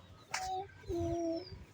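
A pigeon indoors in a house gives two soft, low coos, a short one and then a longer one, close by and quiet against faint background noise.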